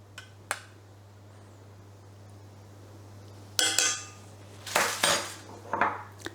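A spoon scrapes and clinks against a dish while sauce is spooned over a 1969-recipe meatloaf: a couple of sharp taps early, then three bursts of close metal-on-ceramic scraping and clatter toward the end, over a steady low hum.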